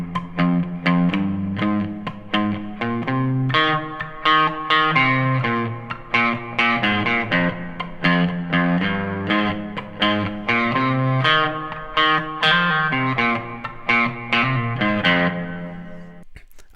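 Main riff of a song played on electric guitar through distortion and effects, a steady repeating run of plucked notes at a bright, even pace that stops abruptly at the end, with no talking.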